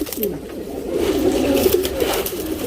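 Tournament racing pigeons cooing close by, a steady run of low, throaty cooing calls that repeat and overlap.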